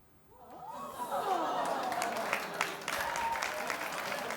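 A studio audience on a daytime talk show breaks into applause that swells after a brief quiet start and carries on steadily, a dense crowd clapping with a few scattered reactions.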